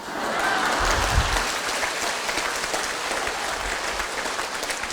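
A lecture audience breaks into sustained applause, a steady roomy wash of many hands clapping for several seconds with a few low thumps.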